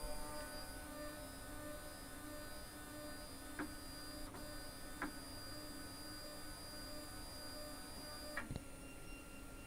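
A car-themed desktop 3D printer runs its auto-homing routine to the bed sensor, a steady mechanical hum with a few faint clicks and ticks from the moving print head.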